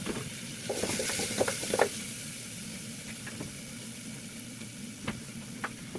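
Meat for hot dogs sizzles as it is sautéed in a pan, a soft steady frying hiss with scattered crackles and occasional stirring clinks, fairly quiet and close with no talk.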